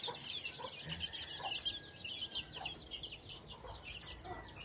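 A native chicken hen brooding on eggs clucks softly and steadily from a distance, a faint, continuous low chatter of clucks with no speech.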